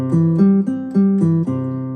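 A Yamaha PSR-EW425 keyboard guitar voice plays a short phrase of ringing, bell-like harmonic notes, each plucked tone sustaining and overlapping the next, with no talking.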